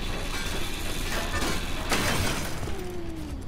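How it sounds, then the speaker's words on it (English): Car glass shattering while scrapping a car in the survival driving game Pacific Drive, a bright crunching burst over a dense, steady mechanical background noise, with no talk. "We'll just chop this car up into pieces."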